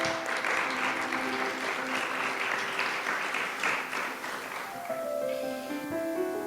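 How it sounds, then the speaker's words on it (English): Sustained audience applause thanking a carnival's organizers rolls on for several seconds at even strength, then thins out as sustained musical tones take over at the end. "Let's give them another round of applause."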